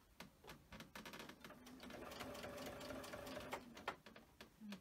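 Sewing machine stitching binding fabric for a quilt, a steady close motor whir with rapid needle clatter running for several seconds, with short pauses and clicks at the start and end.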